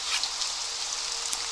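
Steady rain in the video game Day R Survival, a dense even hiss of drops on surfaces with a few slightly brighter patters, continuous and close with no talking.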